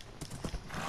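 Quick hoof clip-clops from a horse in Minecraft, a few uneven thuds close by over a faint wash of background noise.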